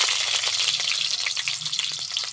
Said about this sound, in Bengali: এবার একটু তেল দিয়ে আলুটা ভেজে নেব